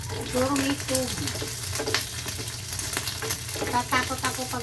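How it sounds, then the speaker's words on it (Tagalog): Cooking oil sizzling and popping in a home frying pan, a continuous hiss with sharp crackles scattered throughout, close and fairly loud. "Tatakot ako pag pumuputok yung aking mantika."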